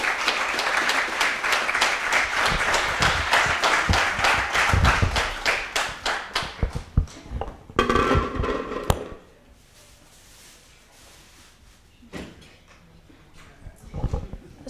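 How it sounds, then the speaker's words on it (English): An audience at a Reimagine End of Life event gives sustained rhythmic applause that thins out and stops after about nine seconds, leaving near quiet with a few stray knocks and shuffles. "Can we have one more round of applause for Jay Molina?"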